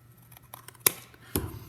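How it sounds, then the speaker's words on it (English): Scissors snip cardboard along stencil lines in two sharp, distinct cuts with faint handling clicks before and between them, close and isolated in a quiet room. "I'm going to take my scissors and I'm going to cut very carefully along the lines of each stencil"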